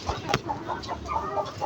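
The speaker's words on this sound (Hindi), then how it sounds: "मुर्गियों की शोर की आवाज़ पहले से ही आ गई है" Chickens cluck and squawk in a coop, a busy run of short calls from several hens at close range, steady throughout with no one speaking.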